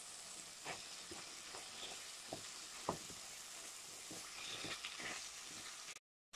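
Onions frying in a pan for stuffed aubergine make a faint, continuous sizzle broken by a few light scrapes and taps before cutting off abruptly near the end.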